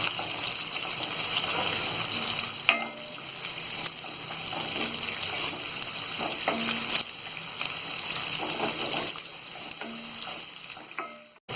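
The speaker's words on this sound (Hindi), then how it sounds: "अब इसके बाद हम ये कटी हुई प्याज डाल देंगे और इसे हम गोल्डन ब्राउन होने तक तलेंगे।" Chopped onions fry in hot oil for samosa filling, a continuous loud close sizzle with occasional stirring scrapes and clinks throughout, no talking.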